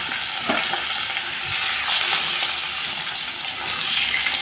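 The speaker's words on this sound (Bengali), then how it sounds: "ঝিঙাগুলোকেও আমি হালকা করে ভেজে নিচ্ছি।" Ridge gourd pieces fry in a pan of hot oil after potatoes, a loud continuous sizzle near at hand with faint stirring clinks scattered through it.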